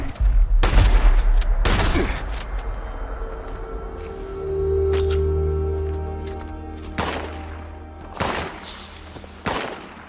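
Gunfire in the video game Fallout 76 cracks out in loud, sharp bursts, several shots clustered at the start and more near the end, with a low hum and faint game sounds between them.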